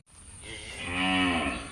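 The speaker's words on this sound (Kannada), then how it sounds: "ಇನ್ನು ಕರುಗಳು ಬೊಬ್ಬೆ ಹಾಕ್ತಾ ಇದೆ" Calves tied near a hillside field bawl in a long, rising and falling moo, fairly faint and somewhat distant, with no talking over it.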